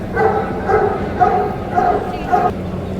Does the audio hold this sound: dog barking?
yes